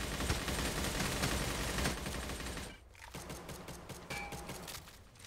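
Rapid automatic gunfire from a fight against enemies in Stalcraft, a dense loud burst of shots for the first few seconds, then a short pause followed by scattered single and double shots.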